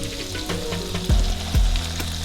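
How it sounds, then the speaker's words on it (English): Seasoned food sizzles steadily in a frying pan, with crayfish powder among the seasoning, while two dull scraping knocks mark it being stirred and moved around. "I'm gonna go ahead and try and move this around in the pan"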